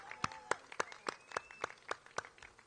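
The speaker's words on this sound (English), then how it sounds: "let's give a real big applause to Darisa for the great job" Modest applause at an NYC DOT street redesign event, a small group clapping in sharp, fairly evenly spaced claps, close and fairly faint, without talking over it.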